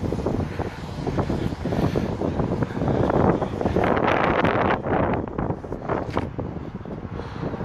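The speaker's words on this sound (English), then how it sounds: "it's a little windy, so hopefully you can hear this well" Loud gusty wind buffets the microphone outdoors, roaring and rising in strong blasts before easing slightly, with no voices.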